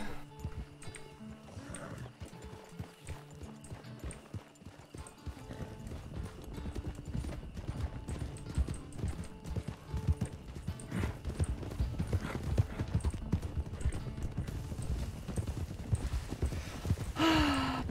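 Horse hooves clip-clop steadily in Red Dead Redemption 2 (RedM) roleplay, a continuous rhythmic trot over ambient outdoor game sound, with a brief whinny-like sound near the end.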